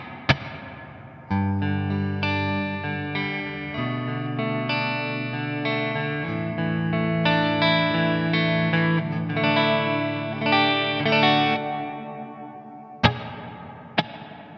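Electric guitar played through a Line 6 HX One Dynamic Hall reverb, sustained chords ringing with a lush, spacious hall tail, ending in two sharp plucked strums near the end.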